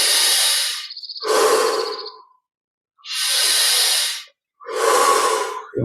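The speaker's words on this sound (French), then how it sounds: "Bien ressentir la saveur de chaque inspiration." Slow, deep breaths during a guided meditation: a long airy inhale with a faint fluttering edge, then quiet, then two more full, close breaths separated by silent pauses, with no talking.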